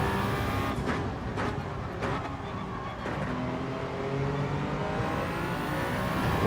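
A race car driving in Gran Turismo 7 at Watkins Glen, a loud continuous engine roar with shifting revs and tire rumble, close and unbroken with no talk.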